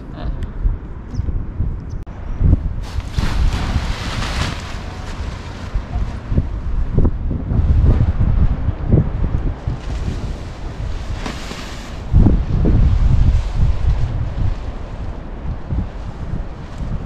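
Steady wind gusting across a beach in Balneário Camboriú, mixed with surf and buffeting the microphone, loud and continuous with swelling rushes throughout and no speech.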